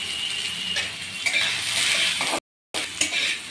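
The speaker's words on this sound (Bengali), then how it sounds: "তেলটা গরম হয়ে গেছে, তো আমি আগে সয়াবিন কটা ভেজে নেব।" Small soybean chunks fry in hot oil with a steady, close sizzle, stirred now and then with light clinks of a utensil against the pan, broken by a brief silent gap.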